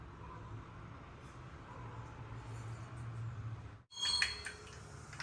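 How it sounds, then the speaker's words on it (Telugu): Mustard seeds spluttering in hot oil while a tempering is made for a beetroot coconut fry, a steady low sizzle that breaks into sharp, scattered crackles and pops near the end. "ఆవాలు చిట్పట్టు అంటున్నాయి కదా"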